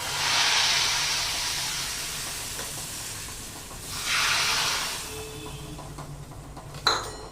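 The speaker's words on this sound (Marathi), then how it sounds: "आता ही जी फोडणी आहे ही आपण याच्यामध्ये घालूया." Hot tadka (spiced oil tempering) poured into drumstick kadhi gives a loud steady hiss that fades, then a second burst of sizzling around the middle, ending with a sharp clink of a utensil.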